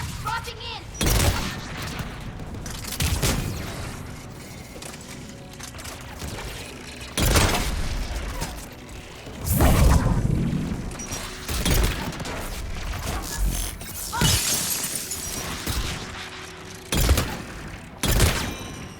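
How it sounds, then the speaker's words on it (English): Anti-aircraft gun fire in the sci-fi shooter Mass Effect 3, heard as loud booming shots at irregular intervals over a battle din, with voices talking between the blasts. "There, anti-aircraft guns."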